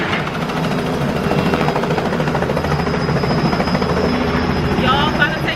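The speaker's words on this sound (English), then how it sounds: "Y'all about to take a helicopter ride" Helicopter ride at Disney's Animal Kingdom: a loud, steady rotor and engine drone that stays continuous throughout, with excited voices talking over it.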